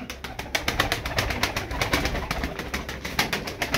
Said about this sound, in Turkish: Yine güçlü bir kuş.